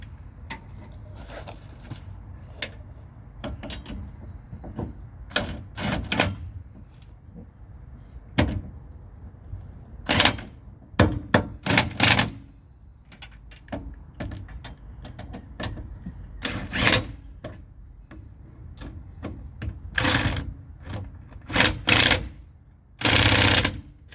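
An impact wrench, called a rattle gun, tightens brake caliper bolts on a car. It rattles in loud, sharp bursts separated by quieter pauses, with no talking.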